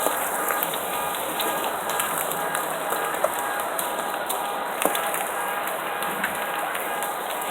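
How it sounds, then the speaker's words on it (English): Heavy rain falls steadily in Colorado, a dense continuous hiss of drops on surfaces with a few sharper splashes, loud and close with no talk. "This looks like a horror movie rain."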